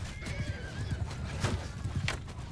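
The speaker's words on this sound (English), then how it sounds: "it's a donkey. We don't care about donkeys." A donkey in Mount & Blade II: Bannerlord brays with a wavering neigh over a steady patter of hoofbeats, loud and close, a second sharp call rising near the end.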